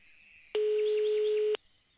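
A single steady phone ringing tone in a Minecraft video game, one loud flat beep lasting about a second, starting and stopping abruptly against quiet background.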